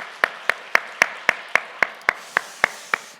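A church congregation claps in steady unison during a Sunday service, about a dozen crisp, evenly spaced claps in a firm rhythm, close and clear with no talking.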